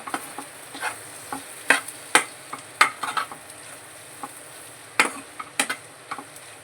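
Capsicum onion egg curry cooking in a pan, with scattered sharp scrapes and clinks as it is stirred and flipped over a soft steady sizzle, fairly close.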